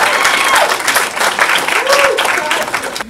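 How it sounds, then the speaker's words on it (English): Brief burst of audience applause at a movie screening for the film's main actor, dense clapping mixed with a few whoops and crowd voices, steady and close for about three seconds. "Give him a round of applause!"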